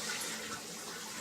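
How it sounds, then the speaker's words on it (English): A toilet flushing, heard as a brief, fairly quiet rush of running water with no talk. "I'll flush so you don't have to hear that."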